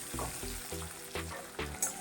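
Eggs frying in hot oil with salt and turmeric for an egg curry, a close, steady crackling sizzle with several rhythmic scraping stirs of a spatula in the pan, no talking.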